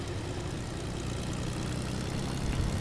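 An airplane engine in the Fortnite video game drones as a steady, low, continuous hum with no talk over it.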